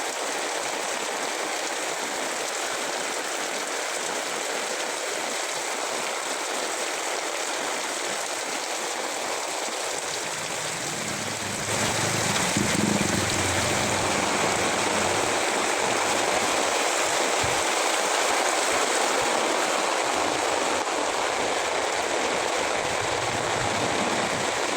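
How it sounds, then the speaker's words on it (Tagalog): Heavy rain pours steadily in a dense, unbroken hiss, growing slightly louder and fuller partway through. "Ayan po, napakalakas ng ulan."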